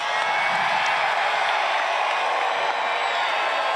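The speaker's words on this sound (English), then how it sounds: "give this gentleman behind me, DJT, one hell of a round of applause" Crowd applause and cheering at a Donald Trump "Save America" rally in South Carolina, a continuous, distant roar of clapping and voices from a large outdoor audience.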